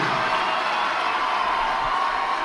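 A home crowd roars and cheers at a Master's versus Stanford volleyball match, a steady, loud wash of voices that holds without a break.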